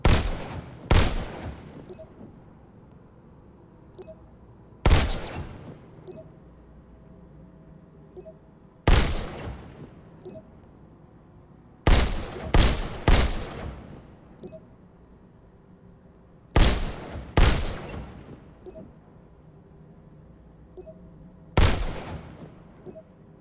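Pistol shots in the VR shooter Robo Recall, with loud sharp cracks fired singly, in pairs and in triplets, several seconds apart, each followed by a short decaying tail over a quiet hum.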